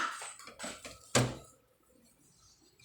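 Dishes being washed at home: a few close clinks and clatters of plates, then one loud sharp knock of crockery, followed by quiet water and faint handling sounds.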